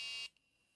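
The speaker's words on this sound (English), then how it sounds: "So you'll notice if I hit the edges, it beeps." A micro:bit operation game built with tin foil lets out a loud, high electronic buzz-beep when the probe touches an edge. The tone cuts off sharply after a quarter second, leaving a faint tick.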